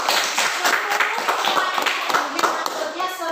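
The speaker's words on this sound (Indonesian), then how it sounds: "Bagus sekali, tepuk tangan." Fourth-grade schoolchildren in a classroom clap their hands together in a quick, uneven burst, with young voices mixed in over the clapping.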